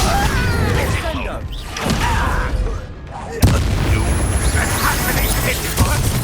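A Confringo spell blast in Hogwarts Legacy, loud rumbling booms and whooshing impacts layered over continuous combat noise, with a sharp crack partway through and a voice shouting over the fray.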